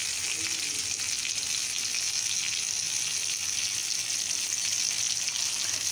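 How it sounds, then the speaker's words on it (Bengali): Potol (pointed gourd) frying in a pan in a home kitchen, with a steady, loud, continuous sizzle that holds evenly throughout with no talking. "এখানে দেখুন বেশ কিছু পটল ভেজে নেওয়া হচ্ছে"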